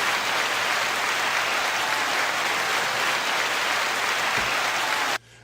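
Dense, steady applause from a crowd, loud and continuous without voices, cutting off abruptly near the end.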